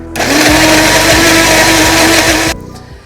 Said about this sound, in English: Let's blend this delicious liquid marinade.